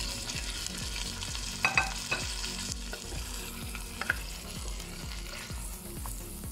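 Pork ribs stirred with blended onion frying in a pan, a regular series of scraping, knocking spoon strokes over a continuous sizzle, with a couple of sharper clinks midway.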